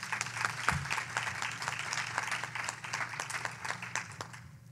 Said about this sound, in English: for him, I'd like to give a round of applause.